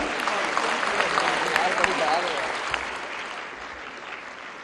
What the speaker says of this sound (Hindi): आपकी भरपूर तालियां लेडीज एंड जेंटलमैन।